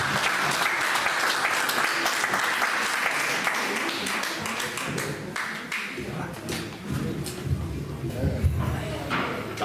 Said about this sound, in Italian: Fatemi un bel applauso.